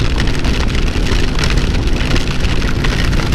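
Heavy rain pours steadily onto pavement, a dense constant hiss with passing cars swishing through the wet road nearby; no talking.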